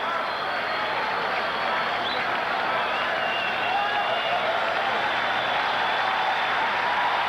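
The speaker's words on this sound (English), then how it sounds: "They applaud the pitching prowess of Mark Thurmond" A baseball stadium crowd of over 16,000 applauding pitcher Mark Thurmond, a steady, distant wash of clapping and crowd noise with a commentator talking over it.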